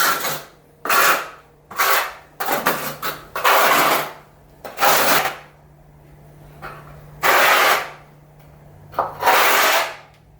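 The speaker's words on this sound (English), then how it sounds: "I'm using a 10mm notch trowel." A 10mm notched trowel spreads tile adhesive across a floor in a series of close, scraping strokes, each a short rasping swipe with brief pauses between them.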